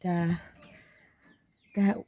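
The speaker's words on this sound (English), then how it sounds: "So this is the second floor of my chicken coop. The other chickens are here" Chickens in the upper floor of a coop give two short, close clucking calls, one at the start and one at the end, with a near-silent pause between.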